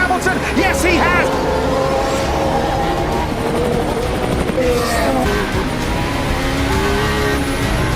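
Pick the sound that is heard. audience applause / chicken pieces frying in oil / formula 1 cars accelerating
formula 1 cars accelerating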